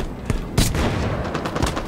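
Enemy gunfire in a team arena video game match, a series of sharp, close shots and bursts over dense battle noise, with one heavy crack standing out in the middle.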